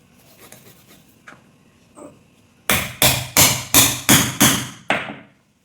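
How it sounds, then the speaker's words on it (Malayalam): A knife chops through the tail of a para fish on a cutting board: about seven sharp, evenly spaced thuds in quick succession after a few quieter taps and scrapes. "ഇതിൻ്റെ വാല് കട്ട് ചെയ്യും."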